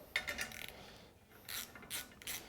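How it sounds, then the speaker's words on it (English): A ratchet turning a 15 mm deep socket while a Tusk Stage 3 upgrade kit goes onto a Honda Pioneer 1000-5 UTV, giving short bursts of quick clicking separated by brief pauses, close and fairly quiet. "We're just using a 15 millimeter deep socket and a 15 millimeter combo wrench."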